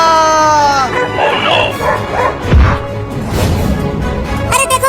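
A dog in a cartoon scene where a policeman falls from a tree, giving a few close, loud bow-wow barks and yips mixed with whimpers, while voices talk around it.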